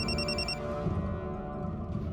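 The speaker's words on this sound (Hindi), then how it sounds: "अपनी पत्नी के बेहोश होने के बावजूद भी बंका जिसका फोन उठाने पर मजबूर हो गया था" A mobile phone rings in a Crime Patrol crime drama scene, a short electronic trill heard loudly in the first half-second, then giving way to steady dramatic background sound.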